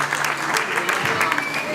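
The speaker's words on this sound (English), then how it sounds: "Clap for the dummies only." Short burst of audience applause at a live stage show, dense clapping from a crowd with faint voices mixed in.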